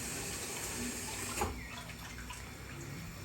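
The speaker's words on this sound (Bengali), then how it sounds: "অল্প একটু পানি দিয়ে দিলাম" A little water is poured into a simmering beef brisket and red potato curry, making a soft, brief splash and trickle over a quiet background hiss.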